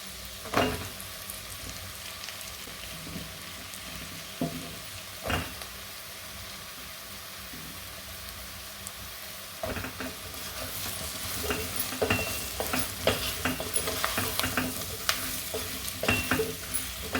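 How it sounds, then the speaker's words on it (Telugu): Bottle gourd pieces go into a pan of spiced dry fish curry, giving a soft sizzle with scattered clacks and scrapes of stirring that grow busier toward the end, close-up and quiet, with no voices. "ఇప్పుడు సొరకాయ ముక్కలు వేసేస్తున్నాము"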